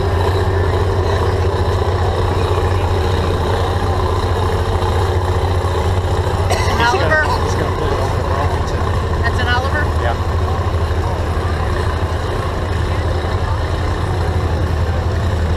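A tractor with a Chrysler engine at a tractor pull gives a loud continuous engine roar, running below full throttle. Voices talk over it.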